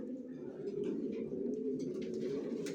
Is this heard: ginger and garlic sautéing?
no